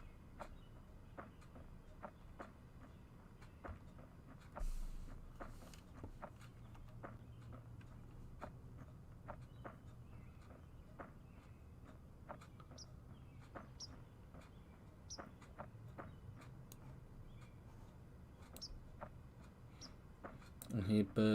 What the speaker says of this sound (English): I hear birds chirping away,